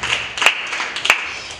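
Congregation applauding during a church sermon, scattered hand claps rising in a few louder bursts across a roomy, reverberant space, with no talk over them.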